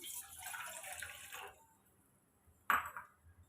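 Water pours steadily into a cooking pot for a second and a half, stops, then a brief splash follows after a short pause, as water is added to be boiled for adai batter.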